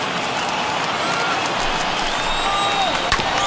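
A baseball stadium crowd of over 39,000 in a broadcast of an Expos at Phillies game roars and applauds continuously, a dense, loud wash of clapping and cheering with two outs.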